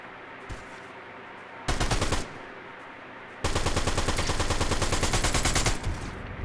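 Gunfire in the video game Fortnite: a brief burst of rapid automatic shots, then a pause, then a long sustained stream of fast machine-gun fire, loud and close, with a lone earlier shot.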